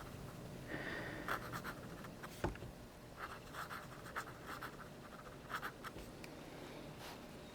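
A cheap Daiso fountain pen scratches across paper in close, quiet strokes, soft rhythmic scribbling with small taps between letters and no talk.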